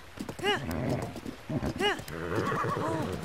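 A giant horse in the Breath of the Wild video game neighs twice in shrill, falling whinnies, with snorts and stamping hooves between, fairly quiet and close.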